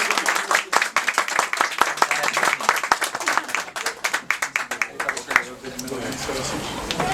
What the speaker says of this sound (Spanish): De un aplauso para comenzar